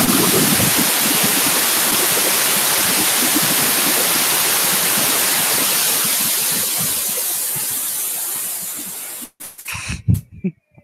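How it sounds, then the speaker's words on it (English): Running water like a faucet, a loud, steady broadband rush that holds for about nine seconds, then cuts off abruptly, followed by a few brief clunks and knocks. "That sounded like a running faucet."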